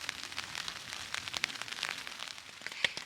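Rain falls on a tent at night during a hike on Vancouver Island, a faint, steady patter of drops with occasional louder ticks and no voices.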